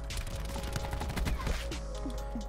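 Rapid automatic fire from the Maddox rifle in Black Ops 4, a dense burst of repeated shots rolling steadily and loud, with extra distant gunfire in the mix.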